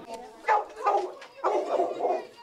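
At a pet-friendly shelter housing dogs, cats and birds, a dog barks in a quick series of close, moderately loud yaps, several in a row across a couple of seconds.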